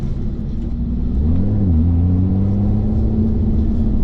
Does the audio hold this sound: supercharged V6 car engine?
yes